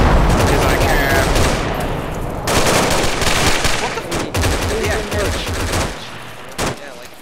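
Rapid bursts of video game gunfire in a multiplayer shooter, dense automatic fire and shots rattling loudly through most of the stretch, with short gaps between volleys and a couple of players talking over it.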